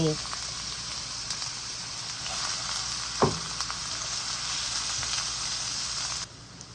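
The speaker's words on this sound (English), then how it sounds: "Once that heats up, I'm going to go in with my chopped onions and my garlic" Chopped onions and garlic sizzle in hot oil with a steady, moderately loud frying hiss, a brief clatter near the middle, and a short spoken phrase at the very start before the sizzle fades out at the end.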